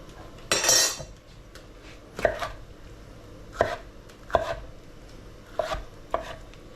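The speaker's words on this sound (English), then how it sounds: "just very slightly chop it up" A knife chops peppers on a cutting board in a home kitchen, about six separate sharp thuds spaced roughly a second apart, close and clear with no talk.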